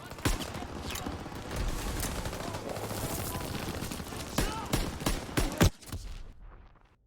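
Gunfire in Call of Duty WWII, set at the Rhine crossing at Remagen, with rapid sharp shots and bursts cracking repeatedly over a busy battle din, close and loud, ending in a few final reports before fading out.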